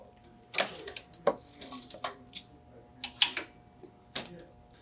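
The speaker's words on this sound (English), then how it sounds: "So I've got my keyboard locked. And what I'm going to do is just swing the whole thing out." Linotype typesetting machine keyboard being unlocked and swung out, a series of sharp metallic clicks and clacks at irregular intervals, close and distinct with quiet gaps between.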